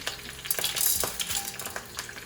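Mustard seeds, curry leaves, dried red chilies and chana dal fry in hot oil, making a close, crackling sizzle with quick pops and spatters throughout, no voices.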